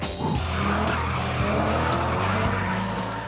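Several cars skid and spin out, tyres squealing continuously over loud engine roar, close and dense for the whole stretch.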